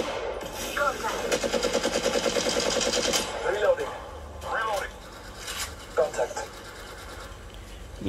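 Rapid automatic machine gun fire from the mobile shooter Apex Legends Mobile, a sustained rattling burst for about three seconds followed by shorter bursts and scattered shots, with someone talking over the gunfire.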